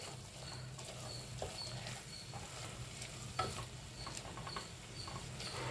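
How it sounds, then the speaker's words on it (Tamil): Spices and chili powder with turmeric are stirred in oil in a frying pan for Chettinad chicken kuzhambu, giving soft scraping strokes over a quiet, steady sizzle, faint and close, without talking. "let's stir it well till the raw flavor goes off"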